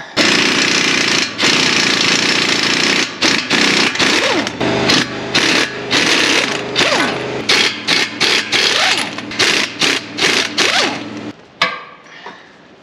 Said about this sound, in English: I can get a rattle gun on that one, but yeah, maybe the bottom two at best